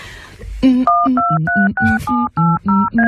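Telephone number dialed: a rapid series of about nine loud DTMF keypad tones, each a short steady dual beep separated by brief gaps, with no talking.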